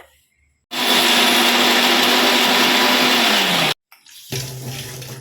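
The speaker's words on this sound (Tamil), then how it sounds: "இதில் நான் இப்போ ஒரு கொத்து கருவேப்பிலையை மிக்சி ஜார் அரைக்கிறேன்" A mixie jar grinds coconut and curry leaves in a loud, steady whir for about three seconds before the motor winds down and stops, followed by a quieter second pulse.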